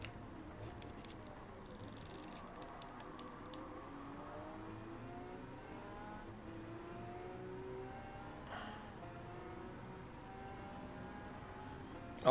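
Lamborghini Aventador engine in a racing video game, a steady moderate drone with rising and falling harmonic revs, some brief clicks early on, and no talk.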